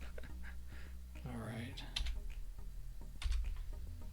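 Scattered soft clicks of typing on a Kindle keyboard, close and quiet, with a brief murmured voice partway through and a couple of low bumps.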